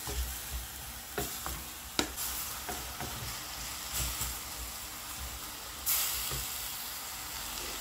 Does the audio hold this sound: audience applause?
no